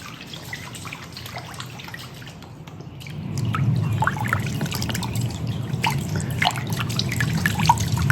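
Flour-gold pan shaken back and forth underwater to settle the heavies, giving a steady muffled sloshing and trickling churn that grows louder partway through, with faint drips and no talking.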